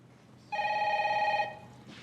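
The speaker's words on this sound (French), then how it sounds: "Je laisse sonner, sinon on ne pourra pas parler." A single telephone rings with a bright, steady electronic bell tone lasting about a second, fairly close and clear against a quiet room, with no talking.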